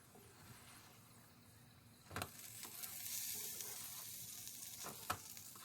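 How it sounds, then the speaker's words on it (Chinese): Meat pies sizzle quietly in a hot pan, the frying hiss rising after a scrape and clatter, with occasional utensil clicks. "打开锅盖，两面继续煎1分钟，让外皮变得更酥脆。"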